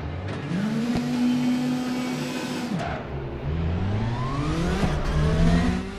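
Sim race cars in RaceRoom roar off the line at the start of a second race, engines rising in pitch through gear changes with a dense pack of motors droning loud and close throughout.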